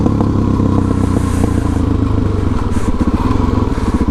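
Motorcycle engine and exhaust burble close and loud while riding, a steady rumbling pulse with some clatter and rising revs toward the end, alone without speech.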